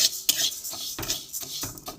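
Raw mung dal frying in a pan while being stirred, with repeated scraping and clinking of a utensil against metal and a soft sizzle underneath, close and steady with no voices.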